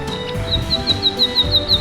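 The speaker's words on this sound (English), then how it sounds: "N is for Nightingale." A nightingale sings a run of sharp, repeated high whistled notes at a quick, even pace, heard clearly over a soft background bed.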